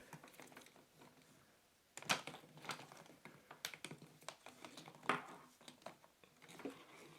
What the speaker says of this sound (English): let's get back to checking out the keyboard